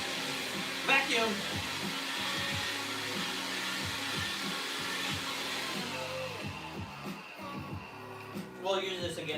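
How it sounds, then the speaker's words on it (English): Vacuum cleaner running steadily in a Fukuoka, Japan living room, a continuous broadband whir throughout with a voice talking over it near the end. "Vacuum!"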